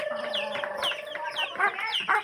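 Pet chickens on a home farm in the morning cluck repeatedly, with busy overlapping calls and short squawks close by, no talk over them.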